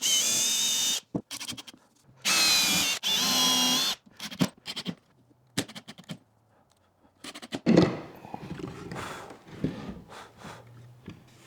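A drill drives a 1.5-inch Forstner bit into MDF in several loud whining bursts of a second or two each, then quieter scraping and handling noises between short spurts.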